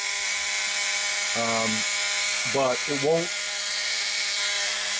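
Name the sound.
low-speed power drill at about 8 volts drilling resin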